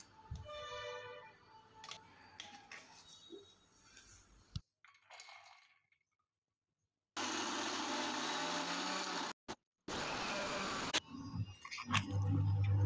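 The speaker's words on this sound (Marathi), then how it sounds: "मस्त अशी जाडसर डाळ वाटून झाली आहे" A kitchen mixer grinder coarsely grinds soaked lentils in loud, steady bursts of whirring, stopping and restarting a few times, with quieter rattling and handling noises in between.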